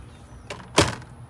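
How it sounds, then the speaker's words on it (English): An RV screen door is opened and shut up close: a light click, then a louder slapping latch shortly after, in a quiet setting with no talking. "will just open and shut the screen door."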